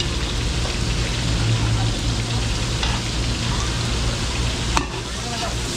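Garlic and onions sautéing with beef in a large catering pan, a loud dense sizzle with stirring scrapes and a brief clatter near the end.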